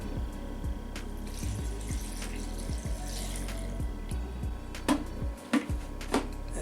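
Water runs steadily from a kitchen tap while coriander paste is made, with a continuous hiss, soft repeated low thumps and a few brief clinks, close and fairly quiet with no talking.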